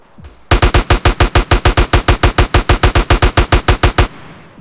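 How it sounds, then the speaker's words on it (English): AK rifle fire in the video game GTA San Andreas: one loud, sustained automatic burst of about two dozen evenly spaced shots, heard alone without talk. "Do I have an AK?"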